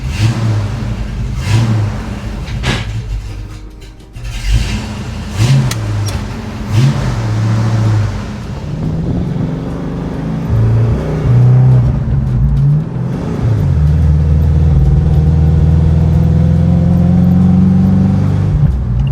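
A car with an HEI distributor, coil and ignition module under test, driving and accelerating on a road drive; steady engine and road noise throughout, the engine note rising and revving harder in the second half, no talking.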